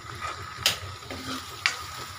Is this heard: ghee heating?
yes